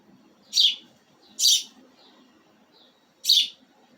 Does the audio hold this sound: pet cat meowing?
no